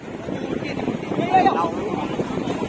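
Sea waves roll and break on Kasheli beach, a broad continuous wash with gusty wind buffeting the microphone and excited voices calling out over it.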